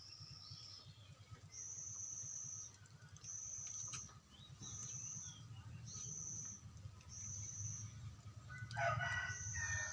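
A rooster crows outdoors, faint and distant, repeating in a regular series over a low background murmur.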